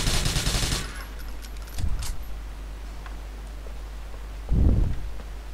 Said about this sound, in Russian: А, вот кто это стреляет по мне, вот что это было-то.